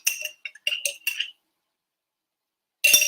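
A spoon stirs mayo into hamburger soup, giving bright clinks against the bowl in a quick cluster, a pause, then another clink, close and clear with no talking.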